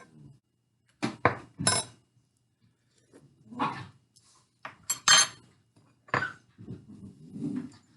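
A pot roast with potatoes and carrots is stirred gently, giving several separate close bursts of scraping and clinking from utensil against pot, spaced irregularly with quiet gaps between them.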